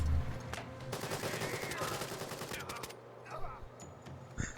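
Rapid automatic gunfire rattles in the tactical shooter game Door Kickers 2, a loud burst of closely spaced shots lasting a few seconds, followed by a few scattered single shots and faint background game sounds.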